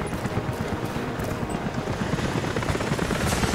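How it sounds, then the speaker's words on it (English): Helicopters approach in Rise of the Tomb Raider, a continuous rapid rotor chop that swells slightly louder toward the end, heard alone and fairly distant. "Jacob, helicopters are headed your way."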